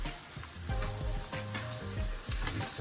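Beef mince in tomato sauce with a little ketchup is stirred in a sizzling pan, with rhythmic scrapes and knocks of the utensil over a constant close fry.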